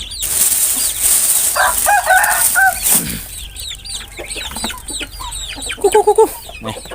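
Chickens at a rural Lao farmyard in the morning, with loud close clucking, rooster-like calls and bursts of wing flapping, irregular and busy, with ducks kept nearby.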